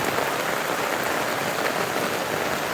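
Heavy rain pours down during a typhoon, a dense, even hiss of drops striking surfaces all around, loud and steady with no voices.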